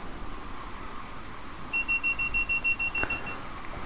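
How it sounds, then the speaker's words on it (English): The DSD alarm in the video game Train Sim World sounds as a steady, evenly pulsing electronic beep over a continuous low rumble of the train in motion. "Again, that's the DSD alarm."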